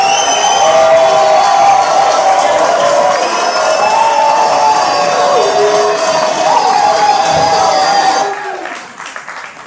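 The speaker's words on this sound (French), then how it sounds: "Applaudissez pour le camarade Jeannot Kalima" A large crowd at a political party meeting applauds and cheers continuously at high volume, a dense wash of clapping and shouts that fades near the end.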